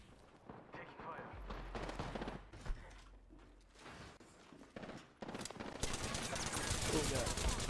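Video-game gunfire rattles in thick, overlapping bursts, fairly loud, with a brief lull before a sustained roaring barrage at the end.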